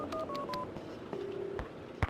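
Phone keypad tones in Max Payne 2 as a number is dialed: a quick run of several short electronic beeps, a pause, then a longer tone, ending with a soft click of the handset, all fairly quiet and close.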